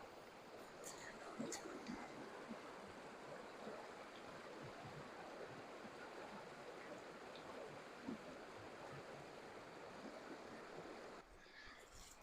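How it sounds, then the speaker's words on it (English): A fairly deep creek near Panguitch Lake, Utah, flows with a steady, even rush of water that fills the whole stretch, with a faint brief voice early on. "this is pretty nice flowing water, and it's fairly deep in places"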